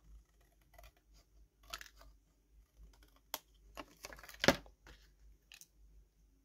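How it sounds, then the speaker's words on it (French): Scissors snip through paper or card while a craft gift is being prepared, a few quiet separate cuts and clicks close by, with one sharper cluster of snips near the middle and no talking. "je vais couper tout, là"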